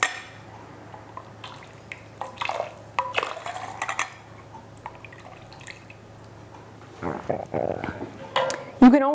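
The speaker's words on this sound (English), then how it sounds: "Let's serve this up. I just have a ladle." Hot mulled wine ladled out of a pot for serving, with faint dripping splashes and metal clinks of the ladle scattered across a quiet kitchen, while a voice talks over parts of it.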